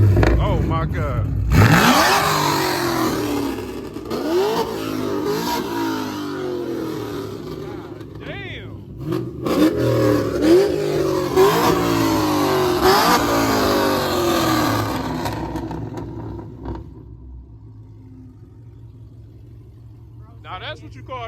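A loud car engine revs hard again and again in sweeping bursts on a car that had a flat tire. The roar rises and falls up close and fades toward the end, with voices heard faintly under it.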